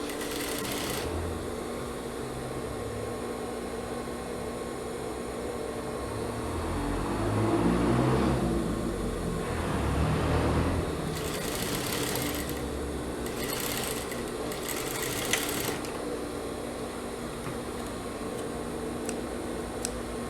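Sewing machine stitching a long-sleeved, military-style collared blouse seam, a steady close mechanical whir running throughout with a slight swell in the middle and a few faint clicks near the end.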